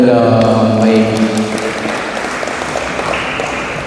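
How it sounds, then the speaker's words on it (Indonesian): Audience applause during an Islamic lecture at a campus mosque, a fairly loud burst of clapping from a gathered crowd that begins over a fading musical tone and continues steadily to the end. "Tepuk tangan dulu dong"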